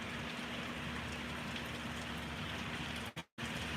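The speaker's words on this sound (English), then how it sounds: "The rain is picking up." Steady rain falls and patters on a surface, a constant wash of sound with a brief dropout near the end and no one speaking.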